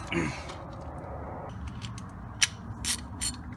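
A wrench turns the front strut alignment bolt on a 2006 Toyota Avalon XLS, making a few sharp metallic ratchet clicks late in the clip over a low background hum.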